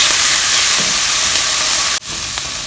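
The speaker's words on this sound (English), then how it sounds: "I'm going to add 2 teaspoons of minced garlic and cook for 1 more minute" Minced garlic with browning onions sizzling in a pan, a loud, steady frying hiss broken by a brief dip near the end.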